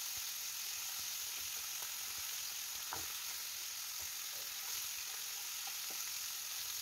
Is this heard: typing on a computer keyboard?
no